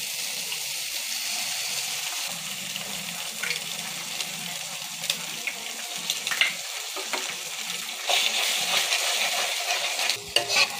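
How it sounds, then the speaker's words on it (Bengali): Eggs frying and being stirred in a hot pan while Maggi noodles are cooked, giving a steady close sizzle with soft scraping stir strokes and a few sharper clicks, with no voices. "ভাজা ভাজা হয়ে গেছে, এখন ডিম দুটো দিয়ে দেবো।"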